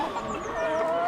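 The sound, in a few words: chicken or rooster clucking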